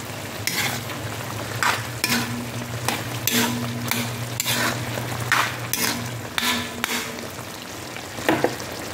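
Spinach adobo with fresh mushrooms is stirred in a sizzling pan: a steady frying hiss runs throughout, broken by repeated scraping strokes of the spoon at an irregular rhythm, close and clear with no talking.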